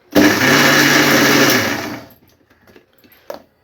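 A mixer grinder grinding a masala paste with green chillies whirs loudly for about two seconds, then spins down and stops, followed by a few faint clicks.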